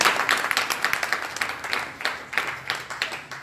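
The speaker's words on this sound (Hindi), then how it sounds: "खूब जोर ताली बजाओ" Audience at a spiritual discourse clapping loudly, a rapid series of sharp, uneven handclaps in bursts, close and prominent, with no voices over it.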